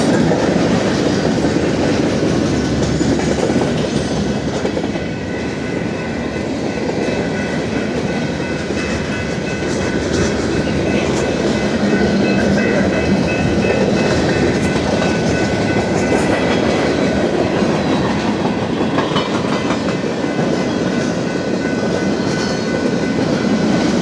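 A freight train rumbles steadily past close by in New Albany, Mississippi, with continuous rolling clatter and metallic wheel noise sustained throughout.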